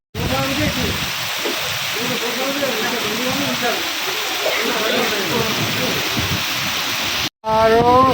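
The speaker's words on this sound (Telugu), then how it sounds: "ఆగస్టు 16 3 గంటలకు స్టార్ట్ అయింది భారీ వర్షం" Heavy afternoon rain in Kamareddy pours down in a dense, steady hiss. A voice speaks over the downpour, the sound cuts out briefly near the end, and then it returns.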